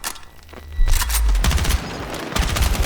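Dense, booming automatic gunfire and heavy impacts fill a Battlefield 6 combat scene, with loud continuous rapid shots layered over deep low rumbles and no talking.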